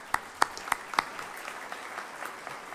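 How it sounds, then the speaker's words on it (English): A ceremony crowd at a director assignment ceremony applauds, a few sharp nearby claps leading into a soft, diffuse patter of clapping that stays fairly faint. "A round of applause."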